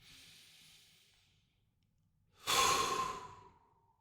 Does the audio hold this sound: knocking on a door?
no